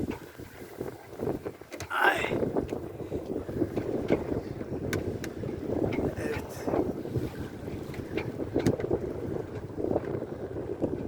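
Steady wind buffeting a microphone outdoors by the water, with rushing gusts and boat or wave noise throughout, and a voice briefly under it.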